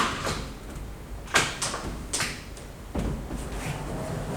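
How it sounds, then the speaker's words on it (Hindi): A uPVC lift-and-slide door lifts and rolls on its wheels, producing a few soft clunks and knocks separated by a smooth low rumble of sliding, close by and without speech. "दरवाजा नीचे से लिफ्ट हुआ और बहुत ही स्मूथली दरवाजा आराम से स्लाइड हो सकता है"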